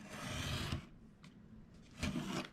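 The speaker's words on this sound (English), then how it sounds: "since I have this chipboard already cut, I am simply going to just trim off a little more" A piece of chipboard is trimmed during a paper craft, giving two short, soft scraping cuts separated by a quiet pause, close and faint with no talking.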